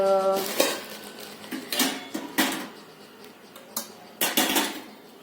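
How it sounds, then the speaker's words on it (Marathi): Metal pots and lids of a three-in-one idli cooker clank and clatter in a series of sharp, ringing knocks at close range, irregularly spaced, with no talking. "मला हे इडलीचं थ्री इन वन जे काही भांडं मी घेतलेलं आहे कुकर घेतलेला आहे"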